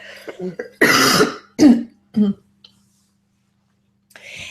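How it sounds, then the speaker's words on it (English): A few harsh coughs and throat-clearing bursts in quick succession, close up, after a brief bit of speech, then silence. "I'm sorry, I have to cough again."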